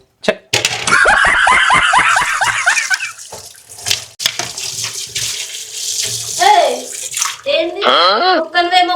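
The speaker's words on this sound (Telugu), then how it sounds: "ఎంతసేపు తోముతావా గిన్నెలు?" Dishes washed and scrubbed under running water, with loud splashing, rapid scraping strokes and clattering utensils, and people talking over the water at times.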